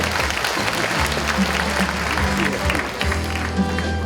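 Audience applause at a town talk concert, a dense, steady wash of clapping throughout while a low background hum and a voice run underneath.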